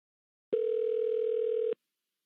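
A telephone dial tone heard before calling a county jail, one steady electronic tone lasting just over a second and then cutting off into silence.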